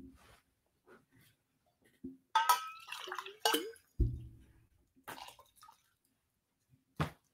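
Water splashes and pours as a clear cup is rinsed out, in several short bursts with gurgling and dripping between them, close by and moderately loud.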